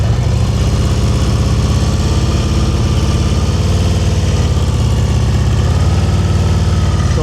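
Motorcycle engine idling and running at low revs during advanced slow-speed riding practice in North Carolina, a steady close drone that holds evenly throughout without a break.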